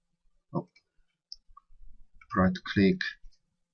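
A computer mouse clicks while a CAD model of a walkway deck for a bridge is edited: one sharp, close click, then someone talks.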